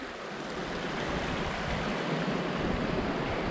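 The Cumberland River rushes steadily as a broad, continuous wash of flowing water, heard outdoors from a trail overlook, even and moderately loud with some wind and no talking.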